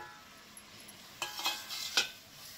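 Rice flour being stirred into boiling water in a pot to make steamed ukadiche modak dough, heard as a few soft scraping strokes over quiet kitchen hiss, with no talking.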